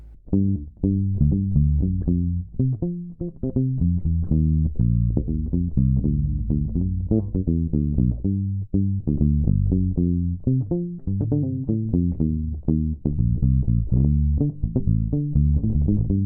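A Bass VI guitar played with palm muting and the tone controls rolled off for a vintage sound: a steady run of dull, thumping low plucked notes, loud and close, with no voices.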